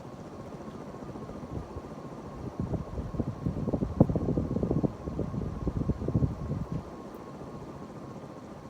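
A Progress Lighting Apollo 52-inch ceiling fan with a cast iron motor runs at full speed, giving a steady low whooshing hum with bursts of rumbling turbulence through the middle of the stretch.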